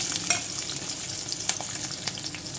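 Ginger and garlic sautéing in oil left from frying, for a pepper chutney, a close, steady crackling sizzle with a few sharp spatula scrapes and pops.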